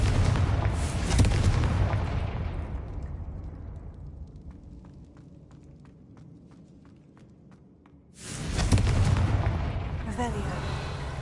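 Confringo blasting-spell explosions in Hogwarts Legacy, a loud booming burst that rumbles and fades away, a quieter stretch with faint taps, then a second heavy blast.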